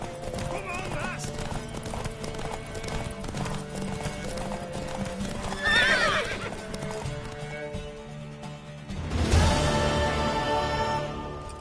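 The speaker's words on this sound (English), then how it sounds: "Worthy of the best horse. The mare is yours." Horse hooves clip-clop and a mare neighs loudly in The Witcher 3: Wild Hunt, with game dialogue spoken around the galloping.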